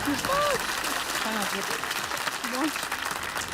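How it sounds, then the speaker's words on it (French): Applause rises from a French quiz show studio audience, a moderate, scattered clapping heard alongside a speaking voice, with faint sung or spoken tones drifting through the busy room. "Je vous demandais pas d'applaudir, Michel."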